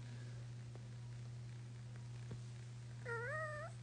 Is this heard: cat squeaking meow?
yes